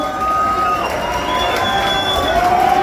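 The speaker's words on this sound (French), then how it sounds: "Une énorme main d'applaudissement." A crowd at a championship belt presentation cheers and shouts steadily and loudly, with whistles and excited voices blending into a continuous roar.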